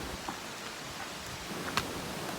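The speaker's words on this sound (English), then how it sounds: "it is still raining" Steady rain falling outdoors, a soft, even wash of drops with a couple of faint louder patters, heard alone without any voices.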